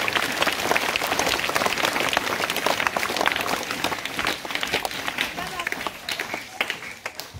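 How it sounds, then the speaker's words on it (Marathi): Audience at a school morning assembly clapping vigorously in honour of a student, a dense, close wash of many hands that thins toward the end, with voices mixed in. "सर्वांनी जोरदार टाळ्या वाजवायच्या आहेत."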